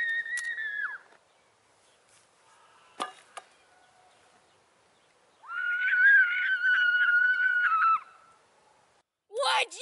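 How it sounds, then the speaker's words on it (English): A person screams in a comic western scene: several shrill, sustained vocal cries, one near the start and a longer one mid-way, separated by quiet gaps and a sharp thud. "Would you stop screaming?"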